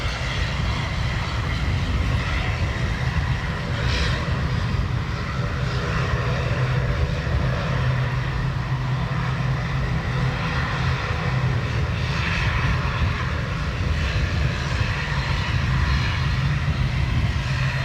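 An ATR turboprop airliner at Dublin Airport gives off a steady, droning propeller hum with a low tonal buzz, holding at moderate loudness throughout against a wet, windy airfield backdrop.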